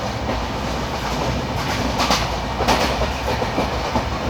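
22114 Kochuveli Mumbai Express rolling along the rails near Nagothane, a steady rumble with rhythmic clickety-clack of the wheels heard from on board, no voices.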